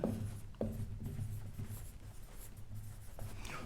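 Pen writing the definition of a regular polygon during a class 8 maths lesson, a steady quiet scratching of strokes with short pauses, close to the microphone, no voice over it.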